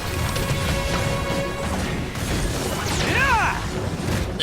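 Heavy smashing attacks from Arataki Itto in Genshin Impact, dense crashing impacts and mechanical clatter with a whooshing swish near the end, busy game audio throughout.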